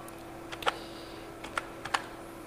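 Quiet computer keyboard typing of a PAN card number: a handful of sharp, light key clicks, some in quick pairs, scattered over a couple of seconds against a faint steady hum.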